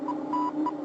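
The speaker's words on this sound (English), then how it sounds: "Hear that beep?" A cartoon sonar radar gives three faint electronic beeps, short, then longer, then short, at a steady pitch against a soft background hum.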